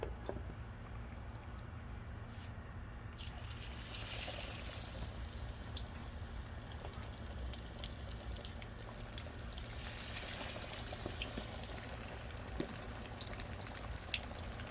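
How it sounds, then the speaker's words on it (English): Chicken for Korean fried chicken sizzling and bubbling steadily in hot frying oil, a continuous crackling hiss that swells after a few seconds and runs alone, fairly quiet, without voices. "When it bubbles like that, when your meat goes in, you know it's the right temperature."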